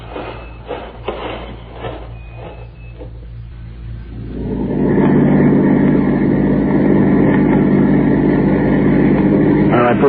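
A truck engine in a 1953 radio crime drama turns over and settles into a loud, steady running drone, preceded by a few knocks and clicks, with the motor continuing evenly as it drives off.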